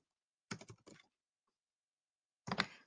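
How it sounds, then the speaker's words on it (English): Quick bursts of typing on a computer keyboard: a short run of several clicky keystrokes, a pause of silence, then another brief cluster of taps, close and crisp with no talk. "You can type in the word,"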